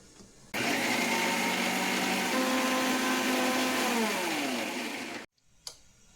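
A mixer grinder whirs loudly for about five seconds grinding garlic chutney with a little water, its motor pitch shifting, then stops abruptly, leaving a faint clatter.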